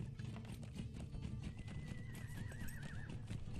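A horse whinnies in Lord of the Rings Online, a wavering neigh rising over a steady bed of game ambience and clip-clopping hooves, with no talk.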